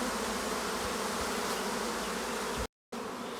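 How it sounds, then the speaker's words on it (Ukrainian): Honeybee swarm buzzing densely and continuously in a dense hum of many wings, close and steady with a brief dropout near the end. "Тут прилетів інший якийсь рій"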